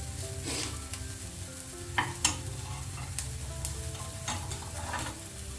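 Mustard seeds splutter and pop in hot oil for a pumpkin and green gram curry, quick sharp crackles over a continuous sizzle, close and fairly clear with no talking.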